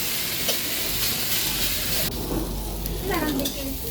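Onions and spices fry in a pan, a loud, constant close-up sizzle and hiss that dips partway through, with some stirring scrapes and a faint voice beneath.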